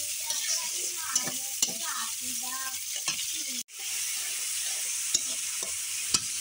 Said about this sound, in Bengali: আর এই তো পেঁয়াজ আর টমেটোটা ভেজে নিচ্ছি, এর ভিতরে মশলা কষিয়ে তারপরে মাছটা দিব